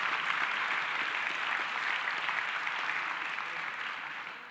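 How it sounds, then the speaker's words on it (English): Applause from a festival audience, a steady wash of many hands clapping at a moderate distance, holding even and then starting to fade near the end. "Can you please give him a huge round of applause?"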